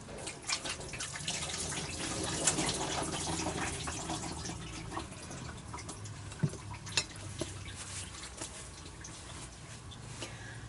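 Water poured from a tap into a cooking pot holding frozen carrots, a steady soft stream with a few drips, close and fairly quiet, with no talk over it.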